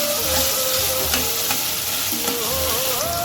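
Browned onion and tomato sauté in a pan for a Malvani crab curry, giving a continuous loud sizzle with stirring scrapes and a faint tonal hum underneath.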